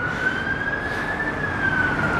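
Fire engine siren wails on a city street in Croydon, a steady sustained tone over traffic noise, fairly loud and close, with no talk.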